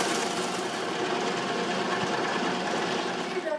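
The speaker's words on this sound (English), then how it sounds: "we're going to pin it and then stitch all the way around it at a 5/8 seam allowance" A sewing machine runs steadily, stitching fabric around a 5/8 seam allowance, a continuous close whirring hum with no pauses.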